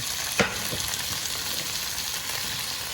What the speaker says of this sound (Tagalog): pwede na natin ilagay yung patatas at saka carrots guys